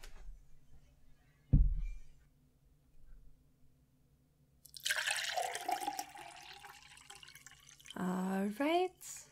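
Water is fetched and poured: a single low thump, then a quiet pause before a splashing, trickling pour, ending in rising glugging notes as a glass fills, close and soft, with no talking.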